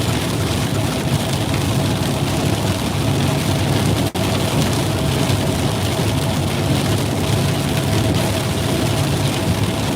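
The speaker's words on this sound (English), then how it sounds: "You can just hear the hail every once in a while just crushing away at the truck" Hail pounding a truck during a South Georgia storm makes a dense, loud, continuous roar of impacts on the vehicle, mixed with wind and a low engine rumble.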